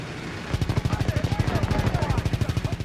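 Rapid gunfire in the Call of Duty WW2 game, set in World War II combat: a steady, fast burst of repeated shots, loud and close, running almost continuously after a brief quieter start.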